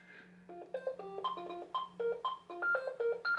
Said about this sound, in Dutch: Dat is de bel. Dat is de telefoon.